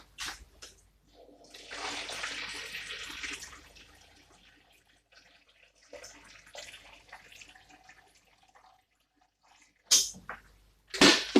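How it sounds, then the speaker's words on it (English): Hot water poured into a palm nut soup base in a kitchen: a soft, splashy stream of pouring for a couple of seconds, then quieter bumps and handling, and sharp clatters near the end. "So I'm going to just add hot water"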